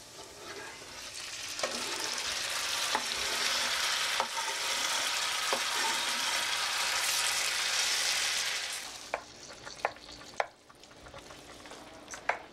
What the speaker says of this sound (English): Now's the time to add the tomatoes to the onions.